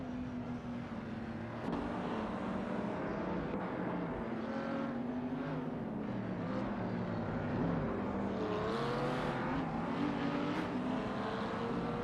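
Race cars running on a track in an AI racing video game: a continuous loud engine drone with shifting pitch, revving rising and falling throughout, no speech.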